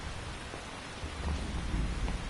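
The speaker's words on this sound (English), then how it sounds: "You can entertain me until the rain stops." Steady rain with a deep rumble of thunder swelling in the second half, from a storm scene in the video game Metal Gear Solid 3: Snake Eater; dense, continuous hiss with no voices.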